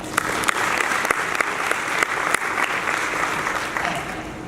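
An audience at a keynote talk applauds steadily, with dense overlapping claps throughout, sharp individual claps standing out near the front.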